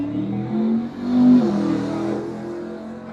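A street-legal drag racing car on DOT tires at the track, its engine droning and swelling through two brief revs, close and fairly loud, with no talking.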